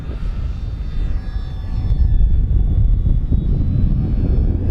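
A BuddyRC OMP Super Decathlon 55-inch RC airplane drones past just below half throttle, its motor buzz swelling as it draws nearer and staying steady and fairly loud.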